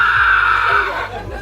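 A person imitates a pterodactyl screech at a stand-up comedy show, producing a loud, harsh, sustained shriek that tapers off over about a second and a half.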